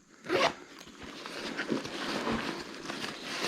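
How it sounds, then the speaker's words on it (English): A small zipper at the bottom of a Pathfinder Scout hiking backpack being opened, a quick loud zip pull followed by softer rustling and brief fabric handling, close up. "This little zipper right down at the bottom."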